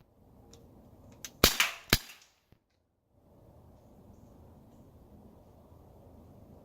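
An Umarex Glock 19 .177 BB pistol fires at targets: a sharp snap followed closely by a second crack, then a faint tick, set against a low background hiss.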